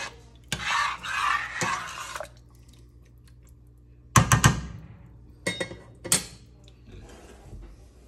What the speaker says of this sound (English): Now as I stir this, I'm really gonna scrape the bottom.